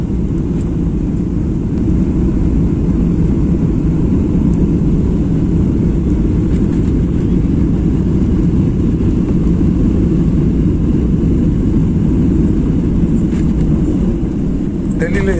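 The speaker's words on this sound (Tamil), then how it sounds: "இப்போ விமானம் டெல்லியில் லேண்ட் ஆக" Airplane cabin noise as a flight from Chennai descends to land in Delhi, a loud steady low engine roar and rumble throughout, close and continuous, with a voice talking intermittently over it.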